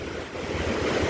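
Charabotte waterfall on the Albarine river rushes as a continuous broadband roar of falling water, steady and fairly loud throughout with no voices.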